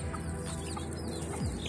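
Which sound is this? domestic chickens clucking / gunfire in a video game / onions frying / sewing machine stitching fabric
domestic chickens clucking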